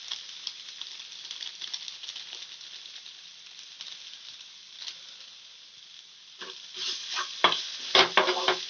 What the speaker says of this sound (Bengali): মশলাগুলো আমি ভালো করে মিশিয়ে নেব